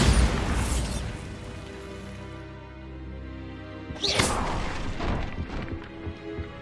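A Bombarda explosion spell in Hogwarts Legacy goes off with a sharp booming blast near the start, followed by a rumbling tail and a second loud crashing burst about four seconds in.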